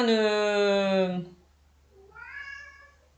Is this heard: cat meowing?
yes